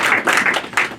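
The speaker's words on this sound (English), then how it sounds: "Hold for applause." A stand-up comedy crowd gives brief applause, a short burst of dense clapping from a nearby audience that swells and dips over about a second.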